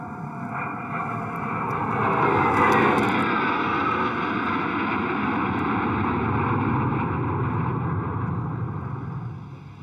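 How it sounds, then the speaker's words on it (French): Algerian military jets pass overhead near the Mali border, a broad roaring rush that builds, peaks and slowly fades over several seconds, loud and unbroken with no voices. "les jets algériens violeront à 2 reprises l'espace aérien du Mali"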